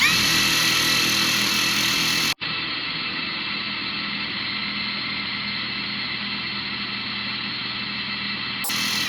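A REAIM cordless impact wrench runs continuously while loosening screws, a loud, steady motor whine close by, with a brief cut-out partway through and no talking.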